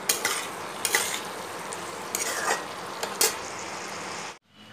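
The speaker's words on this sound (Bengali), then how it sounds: "আমি যে চিকেনটা ধুয়ে রেখেছি এবার দিয়ে দেবো" Spiced chicken goes into a hot pan for a green chilli curry and is stirred, with a steady loud sizzle broken by several sharp scraping strokes of the spatula before the sound cuts off abruptly.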